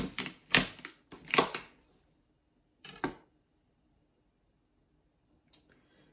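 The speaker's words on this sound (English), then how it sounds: "I'm going to cut off the green part." Knife cutting the green stalks off a washed fennel bulb on a board, a few sharp crunchy chops close by, then a single cut and a faint late click amid quiet.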